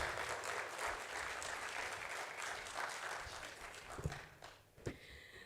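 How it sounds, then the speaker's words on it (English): Audience applause at an investment and real estate summit: dense clapping from a hall crowd, steady then thinning out toward the end with a few louder isolated claps, at moderate distance. "A round of applause for Asna, please."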